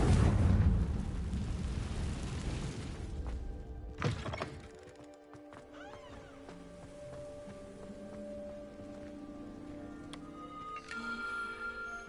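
A Confringo fire spell cast in Hogwarts Legacy bursts with a loud, deep blast that rumbles and fades, followed by a sharp thump and lingering game ambience with faint tonal effects.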